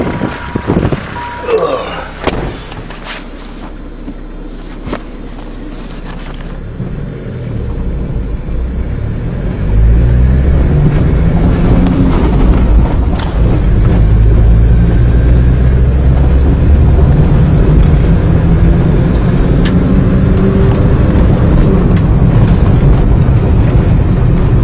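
A diesel caravan engine cranks and catches, then settles into a steady, loud low running rumble that continues for the rest of the stretch, with faint outdoor noise around it.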